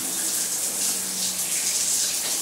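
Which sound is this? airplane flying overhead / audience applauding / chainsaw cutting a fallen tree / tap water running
tap water running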